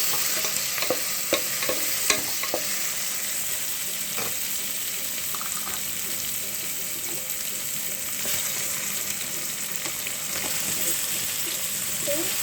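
Carrot and cauliflower curry being stirred in a frying pan: a steady hiss of frying beneath repeated scraping strokes of the spoon, close and continuous throughout.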